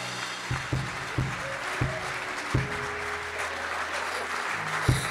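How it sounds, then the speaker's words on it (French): A church congregation applauds for Jesus Christ, a steady wash of many hands clapping at moderate distance, with a few sharper low thumps punctuating it and no talk over the top. "Oh, acclame pour Jésus-Christ."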